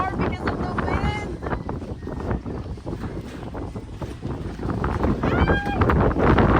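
Gusty wind roars and buffets the microphone on a swinging bridge on Kauai, Hawaii, loud and swelling toward the end, with short high squeaks or cries breaking through.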